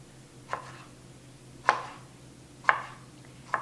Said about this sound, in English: So I'm just dicing them up small.